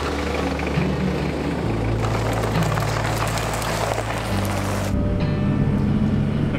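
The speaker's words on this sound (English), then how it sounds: "I miss driving this van." Toyota 4x4 camper van driving, with a steady low engine and road drone and constant cabin rumble that shifts pitch slightly as it moves.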